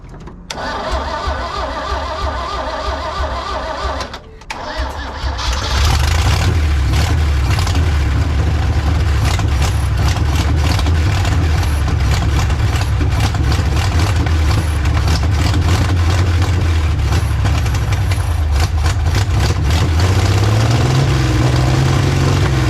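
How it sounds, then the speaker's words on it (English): An old, tired carbureted motor cranks for several seconds on a VTOMAN 2000A jump starter, pauses briefly, then catches and settles into a loud, steady running idle that swells slightly near the end. "She certainly did the trick to get this old tired motor started up."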